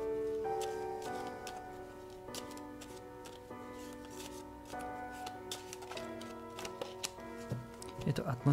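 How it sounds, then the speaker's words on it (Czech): Sibyl fortune-telling cards are shuffled in quick, crisp, rhythmic riffles that grow busier toward the end, under a quiet voice. "Mám tady Sibyliny karty."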